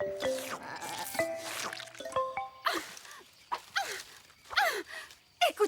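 Several sheep bleat one after another, wavering cries close by, mixed with brief tonal sounds and short gaps of quiet.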